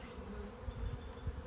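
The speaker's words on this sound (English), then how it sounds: "this box is a little bit more stirred up, although like I said, they're very chill bees anyway" Honey bees buzzing around a hive box, a faint, soft, continuous hum with quiet low rustling underneath.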